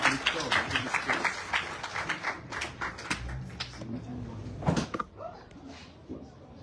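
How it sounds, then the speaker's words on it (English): An audience applauds at a Ganesh Utsav celebration, with dense clapping that carries through most of the stretch and fades out near the end, while voices talk over it. "Please give a round of applause to Shivanaji"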